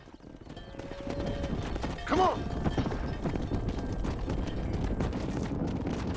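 Horse hooves clip-clop steadily through a Red Dead Redemption game scene, a continuous rhythmic trot under game noise, with a brief crash or whinny partway through and someone speaking briefly over it.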